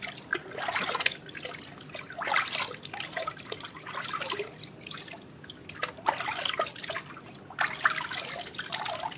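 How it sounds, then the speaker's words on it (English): Water trickles and splashes in uneven pours, rinsing shampoo off a baby's hair in a bath, with soft dribbles between louder gushes, close by and without talk. "you can just rinse off"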